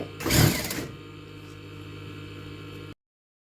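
A sewing machine stitches elastic for a waistband in a short, loud whirring burst, then settles into a steady, quieter motor hum before cutting off.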